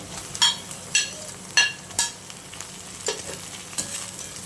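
Onions and tomatoes sautéing in a pan for chicken biryani, a spatula scraping and clinking against the metal several times over a steady frying sizzle, close and clear with no talk.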